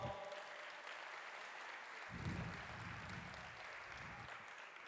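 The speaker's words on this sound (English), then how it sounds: "Can I have a round of applause for..." An audience at a community celebration of Indian traditions gives a steady round of applause that fills the whole stretch, with some low murmuring voices rising underneath partway through.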